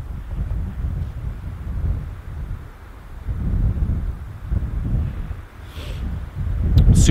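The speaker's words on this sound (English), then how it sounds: "Super windy, guys." Strong wind gusting outdoors on a lakeside hilltop during a winter camping trip, buffeting the microphone in rumbling surges that rise and fall, with no talking.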